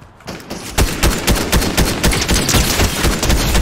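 Rapid bursts of gunfire in the video game Fortnite, loud and close, a dense stream of repeated shots with short gaps.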